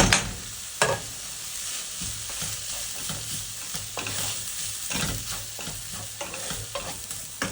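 Rice is stir-fried in a hot pan in batches for Nigerian fried rice, with a continuous sizzle and repeated scraping, tossing strokes of a spatula close up, and no talking.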